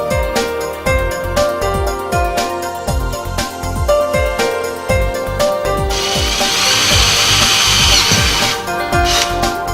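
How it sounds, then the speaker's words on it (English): Power tool cutting threads into the holes of an intake manifold while fitting a CNG sequential injection kit, heard as a steady run of repeated rhythmic whirring bursts, close and fairly loud, with a brighter harsher stretch near the end. "Then make the thread in the holes."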